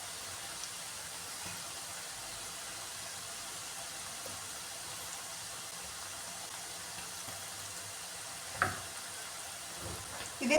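Diamond cut snacks deep fry in oil over a medium flame, making a faint, even hiss of bubbling with a couple of brief knocks near the end.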